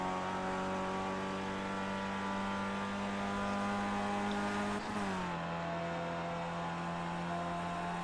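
A Skip Barber race car holds full throttle around the Charlotte Motor Speedway Roval, its engine a steady, loud, droning whine with a brief dip in pitch midway before settling again, heard from on board with no talk.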